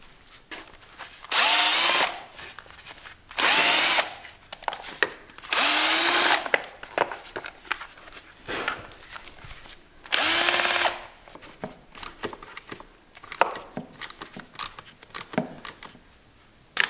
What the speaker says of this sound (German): Als erstes nehme ich den Kettenschutz und die Motorritzelabdeckung ab. Das sind jeweils 3 Schrauben.